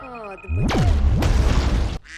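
A heavy booming explosion in a film erupts suddenly with a deep rumbling roar that sustains loudly for over a second before cutting off.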